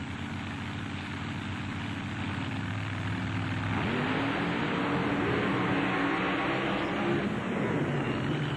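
A big-engined pulling vehicle, a 1927 Ford with a 575 Ford power plant, roars loudly and continuously at a truck and tractor pull in Lima, Ohio, its engine note rising and building into a sustained blast.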